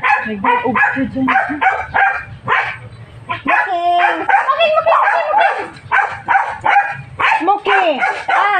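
A dog barks in repeated short bursts at a festive home gathering, close and loud, mixed with yips and whimpers, while people talk and call out around it.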